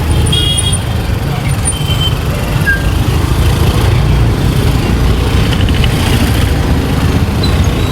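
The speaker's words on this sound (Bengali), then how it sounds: "দেখছো এতটাই জ্যাম" Congested traffic on a bridge and highway, with a dense, continuous rumble of engines close by and a few faint, brief horn toots, while muffled voices sit in the background.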